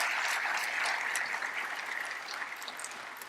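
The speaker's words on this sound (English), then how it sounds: "Let's give them another round of applause." Audience applause for students at a State of Education address held in a church, a dense wash of clapping that starts full and slowly thins out toward the end.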